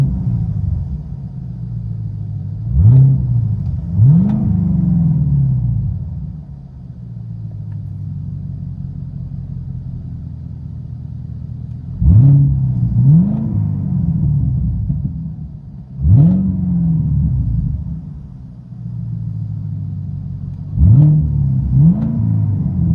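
Heard from inside the cabin, a 2022 Cadillac CT5-V Blackwing with straight pipes revs repeatedly in bursts, each sharp rise and fall of the engine note separated by a deep, rumbling idle.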